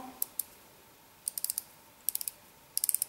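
A Maybelline Instant Anti-Age Eraser concealer is twisted to dispense, giving tiny crisp ratcheting clicks in short clustered bursts, close and quiet with silence between.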